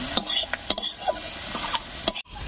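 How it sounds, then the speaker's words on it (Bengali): Prawn heads fry in a pan, with stirring scrapes and utensil clinks over a steady close sizzle, then a brief cut near the end. "চিংড়ি মাছের মাথাগুলো ভাজা হয়ে খুব সুন্দর একটা গন্ধ বেরিয়েছে, এবার নামিয়ে নেব"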